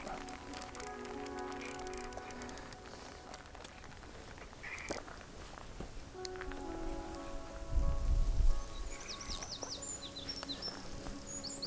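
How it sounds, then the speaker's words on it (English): Steady light rain patters down on a lakeside carp fishing session in Ireland, a soft continuous hiss with scattered drips, faint bird calls and a brief low rumble of handling nearby. "As soon as the session started, so did the rain"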